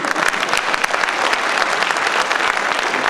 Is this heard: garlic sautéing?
no